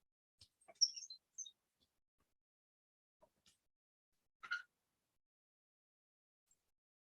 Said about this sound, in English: My bird just looked at me, tweeted at me, then went back to sleep.